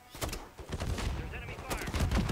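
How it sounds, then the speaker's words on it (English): Enemy gunfire rattles in bursts of shots during a Call of Duty Modern Warfare 3 video game scene, mixed with other in-game noise and voices. "There's enemy fire!"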